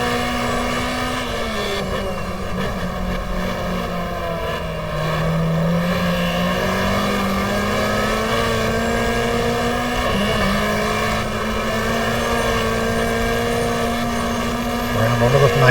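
A simulated race car in GTR2 from a 1994 Australian Manufacturers Championship round at Lakeside drones at high revs. The engine holds a loud, steady tone with small pitch shifts through a gear change, and no one talks over it.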